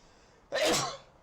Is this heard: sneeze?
yes